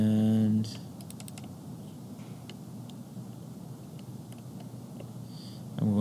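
Computer keyboard typing during AutoCAD drafting, a scattering of light, quiet key taps over a low room hum, with brief speech at the start and end.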